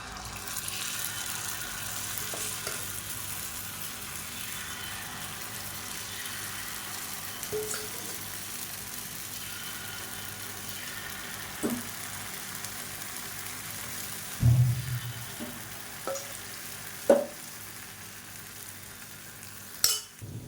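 Sweet appam batter fries in hot oil for a Karthigai Deepam festival sweet, giving a faint, steady sizzle throughout with occasional small pops and clicks.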